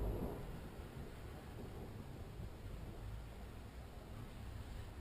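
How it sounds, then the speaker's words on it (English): Rain falling outside during a thunderstorm, heard as a steady, faint hiss with a low rumbling background and no distinct thunderclaps or talk. "And now it's raining out."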